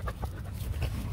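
A H'mong bobtail dog pants steadily and close by, with quick rhythmic breaths and faint whimpery tones over low rumbling background noise.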